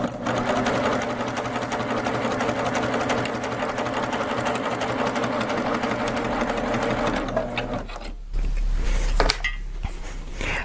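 A Baby Lock Applaud sewing machine stitching at a long stitch length, a loud close steady mechanical whir with rapid needle ticking that runs for about seven seconds, then stops, leaving faint handling noises.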